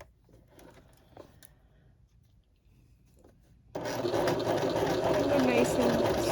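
Sewing machine stitching a curved crotch seam in fabric starts after a quiet stretch of faint handling noises, then runs at a steady, close, continuous hum and rattle to the end.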